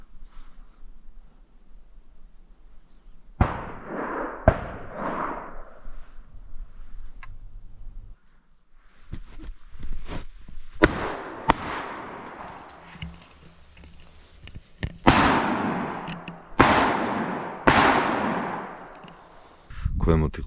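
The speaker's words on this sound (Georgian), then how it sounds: "ქვემოთ იყო რაღაც სერიოზული გასროლა, ისეთი მიყრილი გასროლა იყო" Gunfire rings out during a jackal hunt in Akhmeta, Georgia: a run of sharp, distant shots cracks out at irregular moments, some echoing across open country, with quieter rustling between them.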